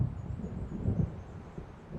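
Rolling thunder from a storm in the video game Alan Wake Remastered, a low continuous rumble with swelling peaks, fairly steady throughout and heard alone.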